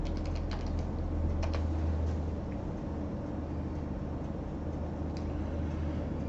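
Keys are typed on a computer keyboard, with a faint scattering of light clicks mostly in the first moments. Quieter taps follow over a steady low room hum.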